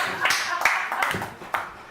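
An audience claps for a slam poet from Lille at a night of slam poetry in Douai. The applause is close, scattered and brief, with speech over it.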